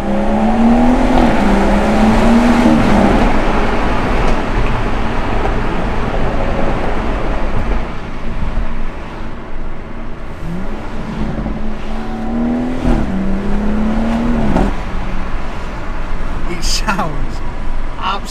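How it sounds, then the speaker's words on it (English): BMW M140i with a B58 engine and resonator-deleted exhaust pulls hard through a tunnel, a loud sustained roar rising and falling through gears, with crackling overrun pops near the end. "we'll listen to some of the overruns, the crackles, the pops and that side of things"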